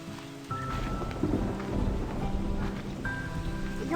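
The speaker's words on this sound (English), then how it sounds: "You hear those sounds of rain?" Steady heavy rain and rolling thunder from a stormy scene in the video game Slime Rancher, with a continuous dense wash of rainfall, a low rumble throughout and a few faint tonal game sounds above.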